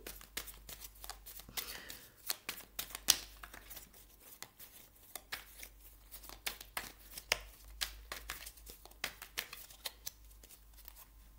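Tarot cards being shuffled before a reading, a long run of soft papery riffles and flicks, irregular and close but quiet, with no voices.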